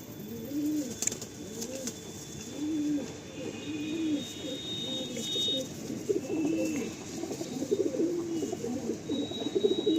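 Flying pigeons kept for sale at Sonarpur coo over and over in soft, rolling low calls, several birds overlapping at close range, with faint chirps and background hiss.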